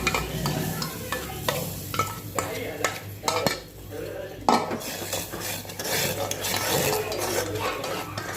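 Khandvi batter being stirred in a pan on a gas stove, with a spoon scraping and knocking against the metal in an uneven rhythm over a faint sizzle, close and fairly quiet.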